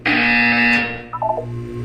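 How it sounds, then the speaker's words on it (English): Electronic buzzer tone in the Portal 2 video game, a loud steady harmonic drone held for about a second before breaking into a short warbling pulse, then a lower hum continuing to the end. "You will hear a buzzer."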